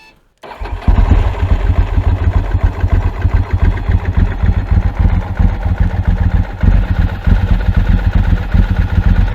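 An early Ducati motorcycle starts after a brief silence and quickly settles into a loud, close, throbbing idle that runs steadily to the end.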